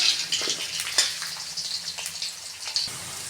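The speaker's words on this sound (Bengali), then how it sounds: "আলু ভাজা আলু এমনিতেই ভেজে নিচ্ছি লাল করে ভেজে নেব" Steady crackling sizzle of potatoes frying in hot oil, close and continuous with occasional pops.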